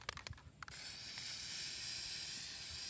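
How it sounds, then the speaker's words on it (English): Spray paint hissing from an aerosol can onto a game controller being prepared for hydro dipping, a steady close continuous spray after a few brief rattles and clicks. "And then you could take both and just spray them at the same time."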